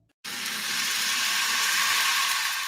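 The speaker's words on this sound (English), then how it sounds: "That's the sound of extremely tender and delicious beef from Certified Piedmontese" Certified Piedmontese beef hits a hot surface and bursts into a loud, close sizzle that holds as a steady bright hiss for a few seconds, with no talking.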